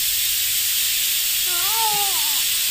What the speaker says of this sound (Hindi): कुकर की सीटी की आवाज़ आती हुई बहुत तेज